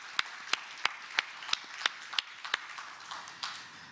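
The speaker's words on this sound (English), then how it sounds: "I would like to ask you for a big applause for them" Applause from a small audience at a ministry closing-remarks event. Scattered, sharp individual claps come in a loose rhythm, sound sparse and fairly distant, and fade out after a few seconds.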